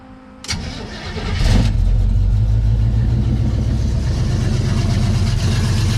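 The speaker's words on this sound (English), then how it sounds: "Gonna make sure that the muffler adjustment actually worked." A Pontiac Firebird engine with an adjusted muffler cranks and catches, then settles into a loud, steady, throbbing idle close by, running evenly to the end.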